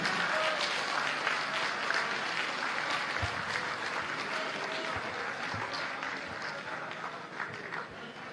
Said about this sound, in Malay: Kita bagi sekali lagi tepukan besar-besaran kepada Puan Sri.